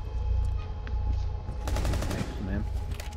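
Rapid bursts of gunfire in the Rainbow Six Siege video game, a short automatic volley followed by a few more shots, moderately loud against quiet background.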